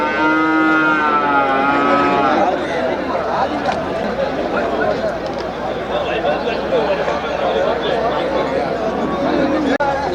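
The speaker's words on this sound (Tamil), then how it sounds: "மாடு" Cattle low and moo amid the steady hubbub of a busy Tamil cattle market at Melapalayam, a long call standing out early before merging into crowd chatter and nearby voices.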